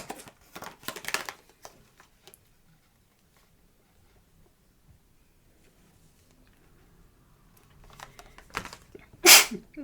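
A person sneezes sharply near the end of a quiet stretch, after earlier bursts of soft talk and rustling in a room during a tabletop game session.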